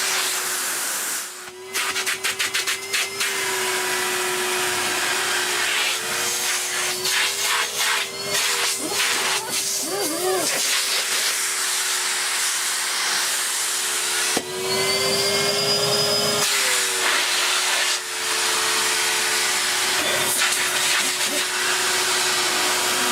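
A refurbished 2015 Numatic Henry HVR200-12 vacuum cleaner runs on its max setting with a steady, fairly loud motor whine and airy hiss. A few bumps and rustles shift the tone briefly.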